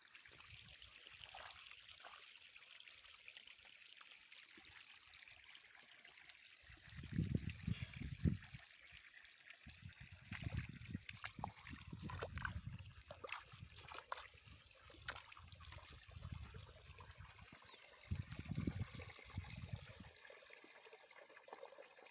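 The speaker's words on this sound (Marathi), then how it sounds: "आता इकडल्या तीन दांडाला चालू केलं पाणी" Quiet, steady trickling water runs throughout, with intermittent low gurgling surges as the flow moves through channels.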